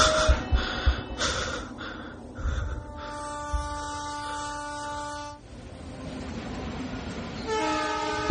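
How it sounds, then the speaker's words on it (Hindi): A train passes on a railway line close to a house, with a loud, sustained horn blaring in two long blasts over a steady rolling rumble of wheels and cars. "घर के पास ही रेलवे लाइंस थी जहां से ट्रेन जाते वक्त ऐसे बिस्तर का हिलना लाजमी था।"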